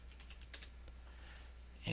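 Password keystrokes tapped on a computer keyboard during a system login, a quick run of soft, faint clicks over a steady background hum, ending in a slightly louder burst.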